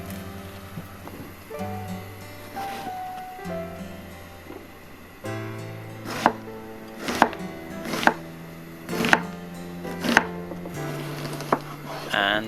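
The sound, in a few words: slicing an onion with a knife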